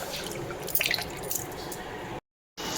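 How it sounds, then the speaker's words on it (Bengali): Hilsa fish are rinsed in water at a kitchen sink, giving close, soft drips and splashes with a brief squish, followed by a short gap of silence. "এখন একটু করে ধুয়ে নিই, চলো মাছ কটা ধুয়ে নিই"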